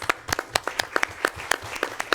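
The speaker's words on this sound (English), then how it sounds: "I think that deserves some applause." A small group at a board of trustees meeting applauds after a unanimous vote. The sharp, separate claps come close and at a moderate level, in an uneven patter lasting about two seconds with no talking.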